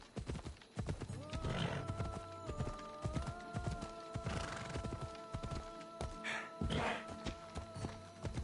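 Horse hooves clip-clop repeatedly in Assassin's Creed Odyssey, mixed with a loud neighing whinny partway through and thuds of movement, all over a dense game soundscape.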